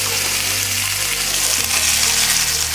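Fish kebab pieces shallow frying in a pan, a loud, dense, continuous sizzle close up with no talk over it.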